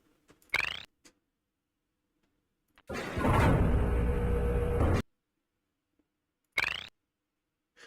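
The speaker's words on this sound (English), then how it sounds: "there are little sounds played when you move in a direction" Myst puzzle direction cues from a video game: short separate sound bursts, a brief blip early, a longer steady textured tone around the middle and another brief blip near the end, with quiet gaps between.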